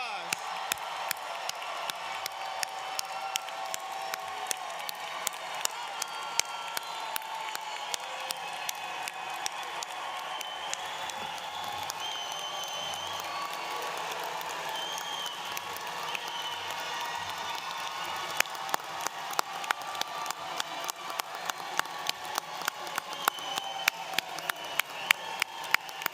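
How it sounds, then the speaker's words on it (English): A commencement crowd at the University of Baltimore School of Law applauds and cheers its graduating class, a sustained wash of clapping and voices with sharp louder claps standing out near the microphone throughout. "A round of applause."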